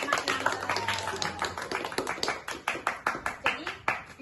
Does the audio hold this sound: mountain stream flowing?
no